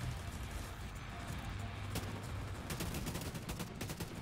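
Gunfire from a weapon in the video game The Division 2, with bursts of rapid sharp shots in the later part over a rumbling game soundscape, moderately loud with no speech.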